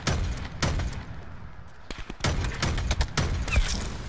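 Sniper fire from the Havelina AA50 rifle in a video game: several sharp, loud shots in an uneven rapid series, each a short punchy crack with a thudding tail.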